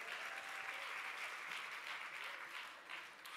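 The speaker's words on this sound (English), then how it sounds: "another round of applause for Olivia Nuamah." Brief, fairly quiet round of applause from an audience at a Black Canadian storytelling event for a speaker, a continuous soft patter of clapping with no voices.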